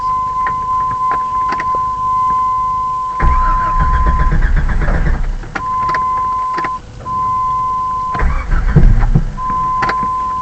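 A Jeep Grand Wagoneer engine with newly fitted 4-hole fuel injectors cranks in two bursts, churning loudly and nearly catching before dying, with a steady electronic warning chime sounding between the attempts.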